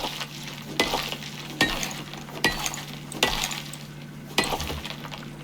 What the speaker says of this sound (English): the pickaxe is for breaking minerals and stone and stuff, which is very, very satisfying